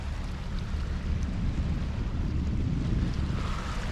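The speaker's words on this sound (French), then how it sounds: "Sous voile avec un appui moteur." A sailboat moving under sail with its engine assisting, in a light breeze of one to two knots, gives a steady, loud wash of wind and water with low rumble throughout and no talking.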